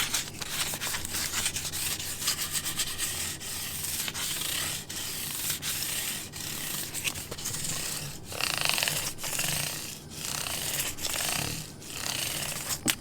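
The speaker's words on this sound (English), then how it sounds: "After using the small file on all the ends of the frets, then I take 1000 grit sandpaper" Fine 1000-grit sandpaper rubbed over the fret ends of a cigar box guitar neck, a steady close scratchy rasp with repeated back-and-forth strokes and brief pauses, no voices.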